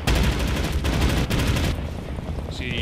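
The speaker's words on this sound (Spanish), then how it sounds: "Ahora neutraliza el tiro de ametralladora." Heavy machine gun fire from the video game Wolfenstein: The New Order, a dense rapid burst of loud shots mixed with explosions and battle noise that fades into rumble.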